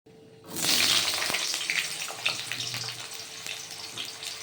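Vegetables frying in a little refined oil with panch phoron, a loud sizzle bursting in after a quiet start and then holding steady with faint stirring clicks.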